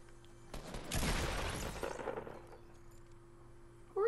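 Video game gunfire erupts as a dense, rapid burst of shots that swells loud for about a second and then tails off into scattered echoes, with no talk over it.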